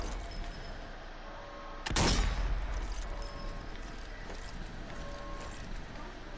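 A single sharp gunshot from sniper fire at zombies in the video game Zombie Army 4 cracks loudly once, then decays over a low, steady game background.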